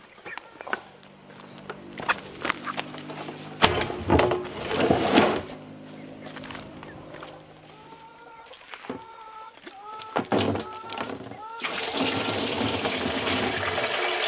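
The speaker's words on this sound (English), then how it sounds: "Filling up the barrel takes a while." Water runs steadily into a barrel outdoors, a continuous hiss that grows louder and fuller toward the end, with scattered clanks, handling noises and a few rooster crows earlier on.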